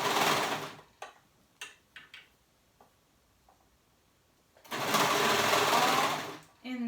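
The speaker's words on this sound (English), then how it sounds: "now I'm going to sew it on" A sewing machine stitches a kids romper in two bursts, a steady whirring run at the start and another longer run near the end, with soft clicks and handling noises in the quiet gap between.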